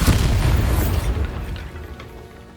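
A Bombarda blasting spell explodes in Hogwarts Legacy, a single loud booming blast with a deep rumble that fades over about two seconds, no talking.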